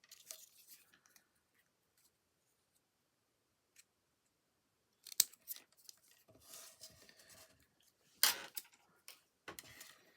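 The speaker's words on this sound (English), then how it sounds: "Let's say we need to cut off maybe about an inch of either side." Scissors make sparse, crisp snips through origami paper, with a few quiet clicks and rustles. A near-silent stretch comes first, then a cluster of sharper cuts close by, with no talk.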